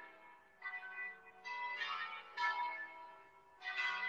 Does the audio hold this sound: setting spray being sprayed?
no